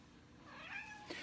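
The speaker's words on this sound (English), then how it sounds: "If you're happy and you know it, say meow." A cat gives one faint, short meow, rising then falling, with a brief second chirp right after, alone against quiet background.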